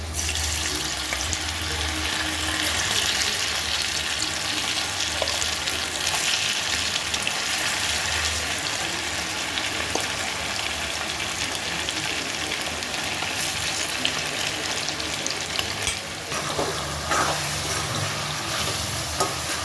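Steady, dense sizzling of marinated chicken frying in a pan, with occasional stirring clatter and faint running water, continuous throughout with no talking.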